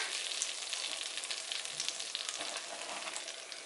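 Flour being whisked into melted butter in a pan to build a roux for Swedish meatball gravy, giving a steady, close sizzle with faint scraping throughout and no voices.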